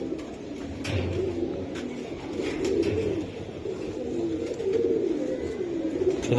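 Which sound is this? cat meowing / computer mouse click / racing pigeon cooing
racing pigeon cooing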